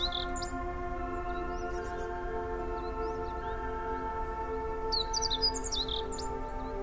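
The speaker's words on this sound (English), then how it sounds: "and the sweet melodies of birds." Birds chirp and tweet in a lush green mountain farmland landscape, faint scattered calls near the start and a brief cluster near the end over a steady droning hum.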